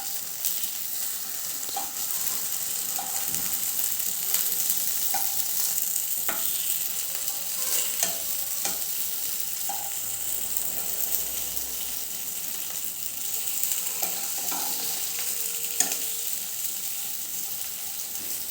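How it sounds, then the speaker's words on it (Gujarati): Lilva kabab patties frying in oil in a pan give a steady, close hiss and crackle throughout, with occasional faint clinks and pops over the continuous sizzle, no voices. "બીજી બાજુ પણ 3 મિનિટ માટે આપણે શેકાવા દઈશું."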